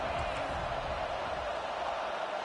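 Stadium crowd in the NCAA 25 college football video game, a dense, steady roar of cheering fans that holds at an even level for the whole stretch, with no rise or break.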